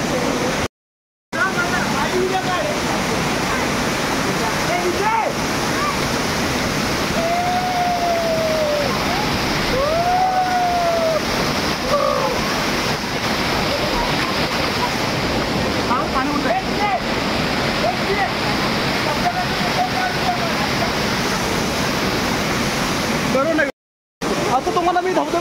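Forceful water pouring down a Konkan waterfall makes a constant heavy roar, with a few faint voices calling over it and brief cuts near the start and end.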